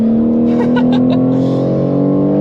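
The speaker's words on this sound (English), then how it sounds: "the BMW M4 that I'm driving right now" A manual BMW G82 M4 drives on the Nürburgring, its engine droning loud and steady from inside the cabin as the pitch slowly climbs, with a few brief higher bursts over the drone.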